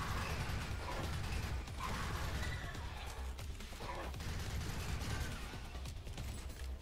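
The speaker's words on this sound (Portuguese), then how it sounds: "Vamos recarregar." Weapon reloading in the pre-alpha rogue-lite dungeon game Riftstorm: continuous mechanical clacking and ratcheting clicks layered over dense game noise and low rumble, steady and fairly loud throughout.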